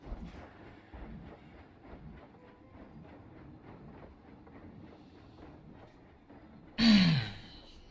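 A train rolling along tracks in the Planet Coaster theme park game: a faint, steady rhythmic clickety-clack of wheels over rail joints, then a brief loud hissing burst near the end, with no talking.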